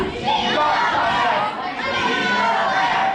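A wrestling crowd at a Pure Power Wrestling event cheers and chatters steadily for a wrestler, with a commentator talking over the crowd noise.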